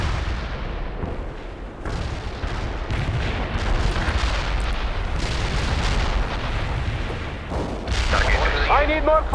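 Artillery strike in the video game World in Conflict: a dense barrage of booming blasts and rumbling explosions, continuous and loud, with radio-style voices speaking over the battle.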